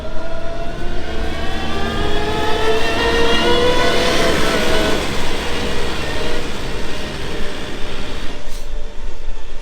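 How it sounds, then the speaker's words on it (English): Kubota R090 articulated wheeled loader running steadily nearby, a continuous loud engine drone with a tonal whine that holds level, easing off slightly near the end. "So this is more of a conventional articulated loader."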